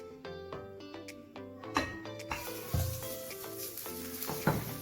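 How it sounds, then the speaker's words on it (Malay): Butter melts in a pan over low heat while making kek batik, a soft sizzle with a spatula stirring and tapping against the pan in uneven knocks. "we need to melt this butter in low heat"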